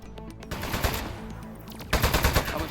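Rapid bursts of gunfire from the desk-mounted gun in the video game Aperture Desk Job, loud and close, in two stretches of fast repeated shots with a brief lull between them.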